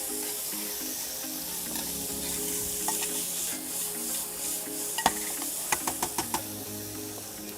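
Scallions going into a hot frying pan at a food expo cooking demo, heard as a steady close sizzle with stirring, a few sharp clicks and taps toward the end.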